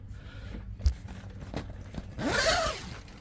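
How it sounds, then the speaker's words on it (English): A zipper is pulled along heavy canvas on a 2003 Rockwood Freedom 2318G pop-up camper, a rising, rasping slide near the end, after a few soft bumps and scrapes. "All four of these zippers go up."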